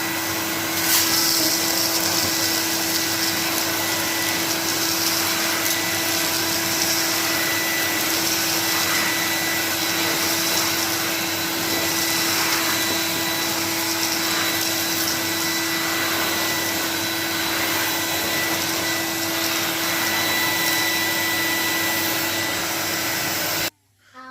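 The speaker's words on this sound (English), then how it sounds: "So let's see how well Henry copes with it." A cream and brown Numatic Henry vacuum cleaner runs continuously indoors while cleaning up a deliberately made mess, a loud steady whirring drone heard up close with no talking, cutting off abruptly at the end.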